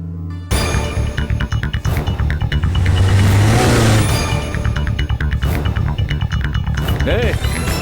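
A car engine running loud and close, revving and settling as the vehicle is brought to a stop, with a dramatic music score over it and a brief voice near the end.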